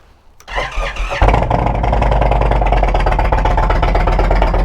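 A motorcycle in neutral cranks and fires after a short starter whir, then settles into a loud, steady, throaty idle close by, with no talking.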